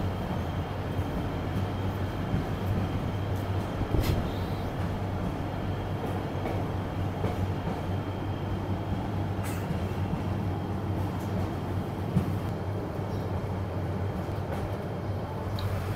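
A night train travels to Cox's Bazar, heard from inside the carriage as a steady, loud rumble with continuous low drone and occasional sharp clacks of wheels on rail joints.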